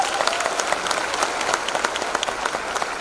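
Dense, steady applause from a large audience at a business presentation in Patna, many hands clapping continuously and close for the full stretch with a few sharper claps poking out.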